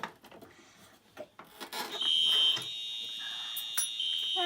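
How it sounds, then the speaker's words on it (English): A smoke detector on a fire alarm system sounds during a test, with clicks and handling noises first, then a loud, steady, piercing alarm tone that holds alone to the end. "Now let's do the smoke detector."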